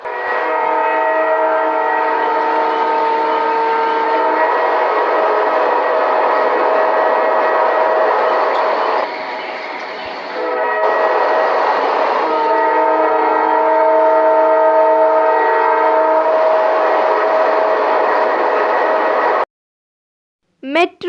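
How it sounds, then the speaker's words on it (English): A train passes for about twenty seconds with a loud, sustained horn and whistle blaring, which dips briefly midway and then resumes before cutting off abruptly. "Train."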